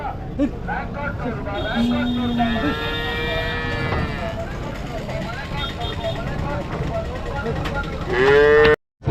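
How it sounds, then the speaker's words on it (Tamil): Several native-breed cattle moo in long, drawn-out lowing calls, one after another, at a cattle market, with a loud close bellow near the end over background chatter and crowd noise. "நாட்டு மாடு எடுத்துகிட்டு வந்திருக்காங்க பாருங்க"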